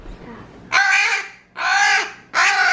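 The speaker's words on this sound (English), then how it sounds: "It's just a baby bird." Baby bird calling while being hand-fed on a farm, three loud, harsh, crow-like squawks in a steady rhythm, close to the microphone and heard alone.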